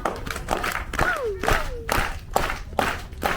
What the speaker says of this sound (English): Right, everyone clap along with me.